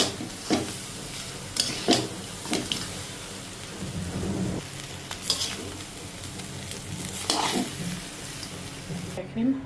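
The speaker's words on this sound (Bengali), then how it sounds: "মানে মাছ ভাজিগুলো দিয়ে দিব" Fish pieces fry in a pan with chili flakes, a constant crackling sizzle broken by sharp knocks of a spatula at irregular intervals, close and fairly quiet.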